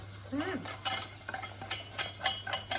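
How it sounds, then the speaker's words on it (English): Milk hisses and sizzles as it is gradually added to a very hot pan for a creamy cheese sauce, amid scattered stirring and utensil clinks, with a steady low hum underneath. "we gradually add the milk in. Yeah, that sizzle."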